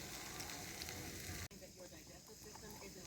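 Peppers and onions frying in a pan over a campfire give off a steady, dense sizzle that runs throughout, briefly cut off once, with quiet speech underneath.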